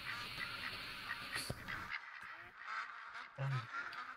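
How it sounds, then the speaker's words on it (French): A duck call in theHunter: Call of the Wild, a short low honking quack near the end over a bed of outdoor ambience and faint game sounds, with a brief sharp click earlier. "On le sait qu'on a un petit canard là-bas."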